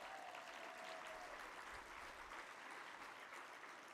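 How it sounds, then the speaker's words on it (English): An audience at a chamber of commerce executives' annual meeting gives David Atkinson of the Kentucky State Chamber a steady round of applause; the dense clapping sounds soft and distant and fills the whole stretch. "give him a big round of applause"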